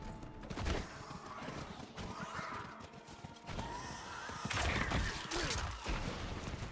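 Hooves clatter in a rapid galloping rhythm alongside a horse's whinny in Diablo IV, with scattered game sound effects in the background, moderately quiet.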